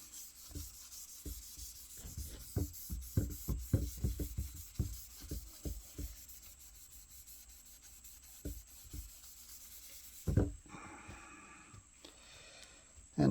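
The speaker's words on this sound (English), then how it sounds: "I'm just going to wet a rag and wipe down the surface here." A rag wetted with paint thinner is wiped across an aluminum jig plate, making a series of close, dry rubbing swipes in quick irregular strokes, denser at first, then sparser with a louder scrub near the end.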